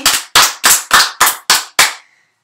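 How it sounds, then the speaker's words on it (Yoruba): Seven sharp, loud, evenly spaced claps from a small group of children clapping in unison at a live Yoruba class, followed by a quiet pause. "Ẹ pàtẹ́wọ́ fúnra yín."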